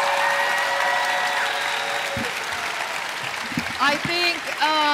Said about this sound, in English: would you please give them a huge round of applause?